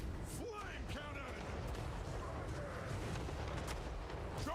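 Flame cannon firing in the Total War: Warhammer 3 battle game, dense booming blasts and roaring fire amid chaotic battle noise, with someone talking over it throughout.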